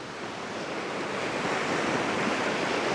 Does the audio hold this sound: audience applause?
no